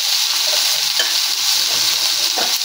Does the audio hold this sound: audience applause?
no